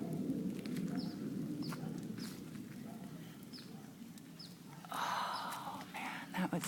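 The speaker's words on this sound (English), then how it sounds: "Birds are kind of freaking out a little too." Agitated birds call outdoors in the Mendocino mountains, with short chirps and coos scattered over a steady low rumble, plus a brighter burst of calls near the end, fairly faint and at a distance.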